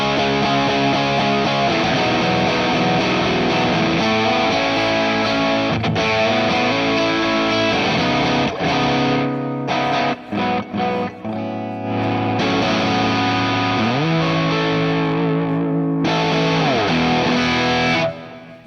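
Electric guitar played through a JHS OverDrive Preamp pedal set to its 75 mode, giving loud, thick overdriven chords and sustained notes with brief choppy stops midway, alone without talk.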